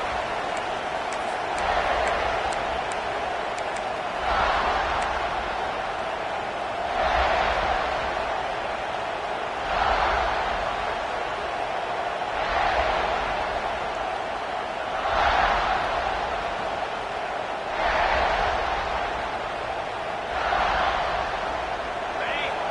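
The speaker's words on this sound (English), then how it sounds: "This crowd, full throat, splitting the eardrums and letting them know it's going to be a long day." Stadium crowd at an LSU college football game roaring at full throat in steady rolling surges, a dense wall of noise with a commentator talking over it.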